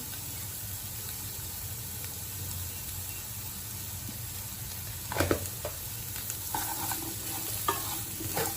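Carrots stir-fried in a pan for a spice-free carrot dish, a low steady hiss at first, then clustered scraping and clinking of a spatula stirring the vegetables in the last few seconds.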